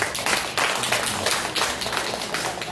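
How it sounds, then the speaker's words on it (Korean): An audience at a Buddhist dharma talk in a temple in Daegu, Korea, claps in a continuous dense patter that stays even and moderately loud, with no clear speech on top. "한번 가시겠으면 한번 박수 쳐보세요."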